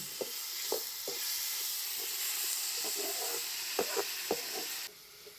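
Tomatoes and onions sauté in a pan for a green pea gravy, a steady hissing sizzle with intermittent spoon taps and scrapes, close and continuous until it drops away abruptly near the end; no one speaks.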